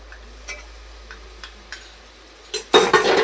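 A spoon scrapes and taps against a pan at intervals while cashew and poppy seed paste is stirred and fried in oil, the scraping growing louder and busier near the end.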